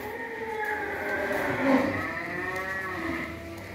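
Breeding bulls of Italian stock on a large cattle farm in Long An, with one long, loud, close moo that rises and falls over steady background farm noise.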